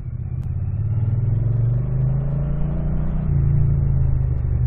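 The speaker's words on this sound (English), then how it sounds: "The engine sounds lovely." A Triumph Street Cup cafe racer motorcycle engine revs loudly and close by, a deep rumbling drone that rises and holds through the clip without any talk.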